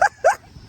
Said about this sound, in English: So we've got a crazy dog and a crazy goat.